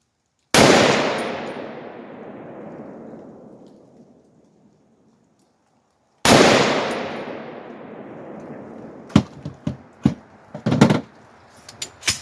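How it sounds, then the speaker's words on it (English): A Palmetto AR-10 rifle fitted with a Sprinco orange extra power buffer spring fires outdoors: two loud single shots whose booms roll away slowly, followed by a burst of sharper, closely spaced shots; no voices. "when the gun fires, it definitely throws"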